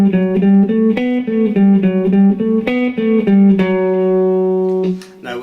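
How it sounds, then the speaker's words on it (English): A rock guitar plays an alternate-picking exercise starting on an upstroke, with clear, evenly spaced picked notes bouncing between two pitches, then a final note ringing out alone and close. "Now exercise 2 is actually the same exercise as the previous one, except we're going to start with an upstroke instead of a downstroke."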